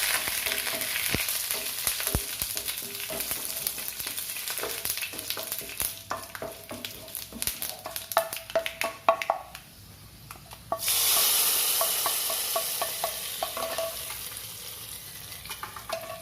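Oil sizzles and crackles loudly as curry leaves drop into a hot pan, with stirring clatter, then a sudden surge of steady hissing.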